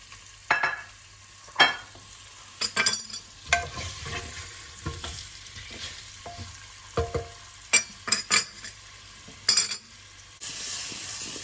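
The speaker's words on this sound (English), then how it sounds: "Now I will put these nadrus inside, and we don't have to fry them. We just have to saute them." Lotus root (nadru) being sautéed in a pan: a quiet sizzle under repeated clattering scrapes and knocks of stirring that come in irregular bursts, close by, with no talking.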